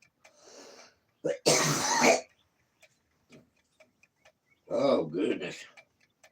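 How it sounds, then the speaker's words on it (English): A loud, harsh cough from a sick man bursts out, followed by a second rough coughing fit after a pause, with faint ticking and a few quiet sounds between. "That cough there about got me"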